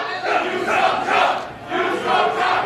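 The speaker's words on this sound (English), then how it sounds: "The Joey Ryan contingent in the crowd chanting, "You suck, Chuck."" Wrestling crowd at a PWG Battle of Los Angeles 2010 show in Los Angeles chanting in a rhythmic, repeated group shout, loud and reverberant, filling the whole clip with no commentary over it.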